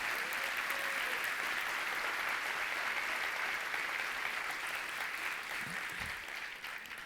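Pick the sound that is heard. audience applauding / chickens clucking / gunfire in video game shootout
audience applauding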